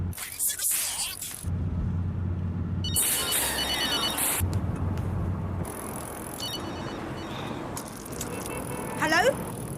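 A telephone rings in bursts in a home during a Casualty television drama scene, with several separated rings sounding over low background noise.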